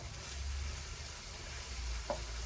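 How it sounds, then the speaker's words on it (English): Blended red pepper, onions and hot pepper fry together in a pan for a pepper sauce, giving a steady close sizzle with a low rumbling bed and a brief clink near the end. "we're going to fry this blended red pepper, onions, and hot pepper together"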